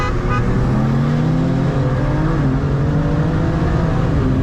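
A stock Porsche Turbo S accelerates hard, its engine a loud, close, continuous roar that climbs steadily in pitch with no talking.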